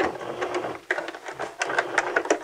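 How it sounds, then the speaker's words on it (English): A sewing machine backstitching at the end of a seam, its needle clattering in quick, uneven bursts that pause and restart, close and moderately loud with no talk. "and then I'm going to backstitch"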